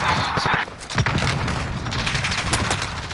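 Dense bursts of automatic gunfire and shotgun blasts rattle through a Call of Duty: Modern Warfare multiplayer match, loud and continuous across the whole stretch with rapid overlapping shots and voices mixed in.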